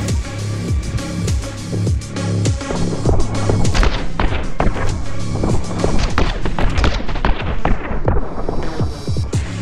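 Rapid gunfire from two guns in the action video game My Friend Pedro, dense bursts of sharp shots cracking almost nonstop over a thumping music track.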